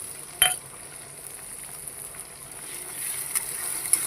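Crushed ginger, garlic and green chili dropped into hot oil with cardamom and cinnamon, giving a steady close sizzle with a sharp crackle at the start and a few faint utensil clicks.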